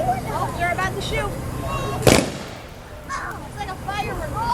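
A gun fires a single loud, sharp salute shot outdoors during a rainy Memorial Day parade in Dansville, echoing briefly while people chatter nearby before and after.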